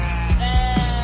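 A sheep bleating sound effect plays on a sports talk radio broadcast: a short, loud, wavering bleat heard on its own over a steady tonal bed.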